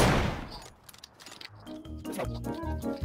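A burst of gunfire in the video game PUBG opens loudly, followed by scattered sharper shots and clattering bursts, with a voice briefly audible underneath.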